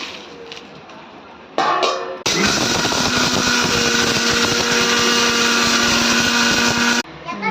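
A mixer grinder grinding dry spices for mutton masala starts with a loud, steady whirring roar that runs for about five seconds, then cuts off. Brief quieter sounds come before it.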